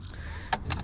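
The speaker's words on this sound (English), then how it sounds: "Using another key." Keys jangle briefly in the ignition lock of a Honda Civic, a few quick close metallic rattles over a low hum.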